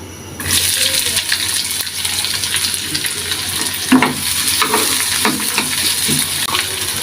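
Onions drop into hot oil already flavoured with cumin and bay leaf, setting off a sudden loud sizzle that stays steady and close, with scraping stir strokes throughout.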